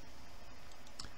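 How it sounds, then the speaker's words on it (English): A single sharp computer mouse click near the one-second mark stands out faintly over low room noise while a login setup is changed. "I'm just going to click on this"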